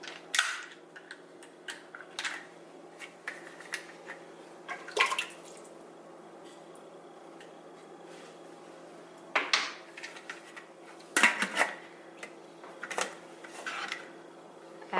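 Parts of a stovetop pressure cooker with a rubber seal being handled and fitted back together after washing: scattered clinks and clatters of metal at close range, with quiet gaps between them and no talking.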